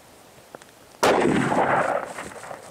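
A single 7mm PRC precision hunting rifle shot, a sharp loud crack followed by a long rolling outdoor echo, preceded by a faint click.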